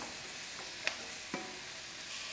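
Chopped tomatoes, softened onions and ginger-garlic paste sizzle in a pan for mutton kulambu, a steady hissing fry broken by a couple of brief clacks of a spoon stirring, with no talking.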